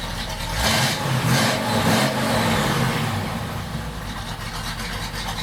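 A loud, rumbling straight-piped V8 engine of a 1951 Chevrolet 3100 pickup truck revs up then settles into a throaty idle, close and continuous.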